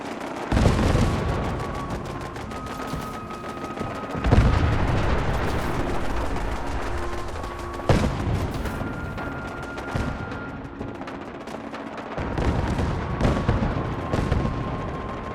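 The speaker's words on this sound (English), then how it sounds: "listen to the sound of gunfire and explosions" Gunfire and explosions in the video game Fallout 4: repeated heavy booms and blasts, several big impacts followed by long rumbling decays, with crackling shots and a faint tonal hum underneath.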